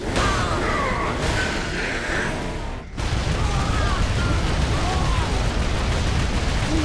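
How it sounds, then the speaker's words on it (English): Grenade explosions in Warhammer 40K: Space Marine, a continuous loud roar of blasts and battle noise with a brief drop in the middle, with a voice talking over it. "I thought I was getting shot with grenades from somewhere"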